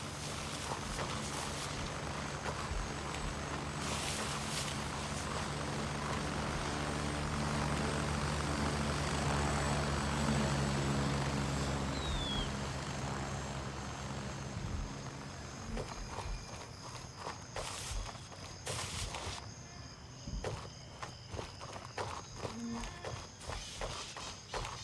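A helicopter in a video game drones steadily with a rumbling rotor and engine hum, swelling and fading over the scene while footstep-like clatter and game effects break in later; nobody speaks.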